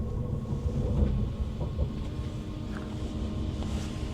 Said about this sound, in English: This is a Transpennine Express service to Preston.